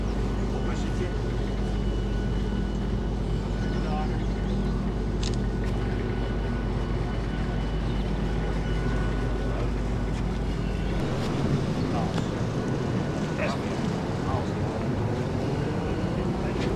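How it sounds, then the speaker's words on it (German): The ferry from Gorinchem to Woudrichem gives a steady low engine drone with wind buffeting the microphone, continuous and fairly loud, while the rumble shifts partway through. "wir stehen jetzt auf der Fähre hier von Gorinchem nach Woudrichem"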